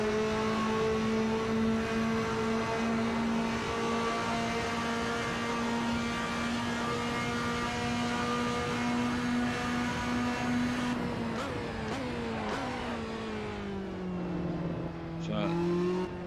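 A Group 2 Ferrari race car engine drones loud and close, holding a steady high pitch before revving and dropping as it shifts, with a voice talking over it.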